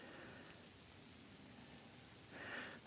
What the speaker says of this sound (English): I can hear the snow coming down on the tent.